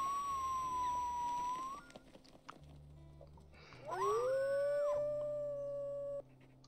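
Dogs howl in the WolfQuest video game, a long wavering howl followed by a second rising howl, faint and distant, with no barking evident and no talking.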